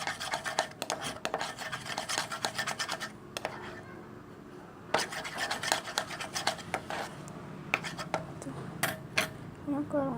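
Clear glue and water slime mixture stirred in a container, steady scraping and sloshing strokes close up, pausing briefly mid-way and resuming, with no voices.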